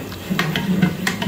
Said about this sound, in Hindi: इसको हम बार बार चम्मच को हिलाते रहेंगे ताकि हमारी दालें जो हैं वो नीचे ना लगें।